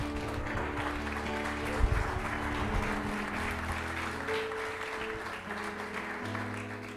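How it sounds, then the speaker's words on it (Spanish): A church congregation breaks into applause, a fairly soft, steady clapping spread through the room with low sustained musical tones, likely an organ or keyboard, humming underneath. "Yo le daré un aplauso al Señor."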